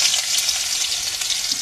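Onions frying in hot oil in a pan, a steady, loud, bright hiss and sizzle that holds evenly with no break and no talk.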